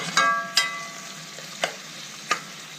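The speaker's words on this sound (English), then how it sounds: "Into this I'm adding 1 chopped onion, and fry this until golden brown." A chopped onion fries in a pan with oil, giving a steady soft sizzle broken by four sharp scraping stirs of the spoon at uneven intervals.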